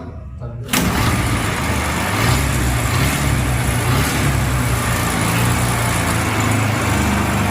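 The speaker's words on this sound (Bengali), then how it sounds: "ইঞ্জিনটা কত সুন্দর সাউন্ড দেখেন ইঞ্জিনটার সাউন্ড দেখেন" A used motorcycle's engine in Bangladesh fires up after a short quiet moment and keeps running at a steady, loud idle with a low throbbing rumble.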